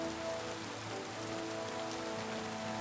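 Steady rain falls throughout in Kingdom Come: Deliverance II, a continuous dense patter of drops on surfaces with no talk, even and fairly loud across the whole stretch.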